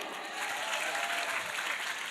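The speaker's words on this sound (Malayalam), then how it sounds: "ഇവനൊരു കൈയടി കൊടുക്കുവോ?" An audience at a school literature festival claps for a student, a short burst of dense, even applause that swells slightly in the middle.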